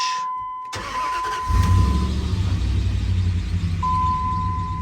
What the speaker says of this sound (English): let's see if I can start it without pushing in the clutch pedal. Nope. Push in the clutch.